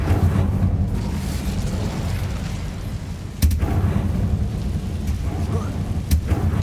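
The Incendio fire spell from Hogwarts Legacy rolls out as a steady roaring rumble, with sharper bursts flaring around the middle and again near the end.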